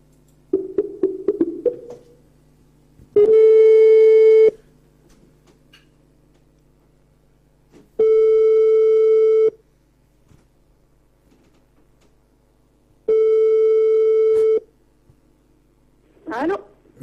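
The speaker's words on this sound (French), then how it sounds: "on va passer à Coralie, que je vais essayer de contacter" A telephone line rings while a call is placed: three long, evenly spaced electronic rings with silent gaps between them, close and clear, framed by brief clicks.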